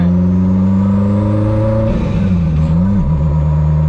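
A Renault 5 Maxi Turbo pulls away on a hill start: a loud, steady engine drone near the car, then the pitch dips and wavers as the clutch bites and the engine strains under load.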